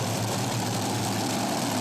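A pulling vehicle's engine roars at a tractor pull at the America's Fair in Hamburg, NY, a dense, continuous, loud drone with no voices.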